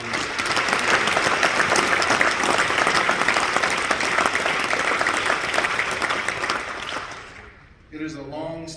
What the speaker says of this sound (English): big round of applause for all of these award winners.